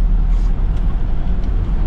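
Trucks lined up along the Jammu–Srinagar highway in Udhampur district produce a steady, loud low engine rumble and road noise throughout, with a faint hiss of air brakes.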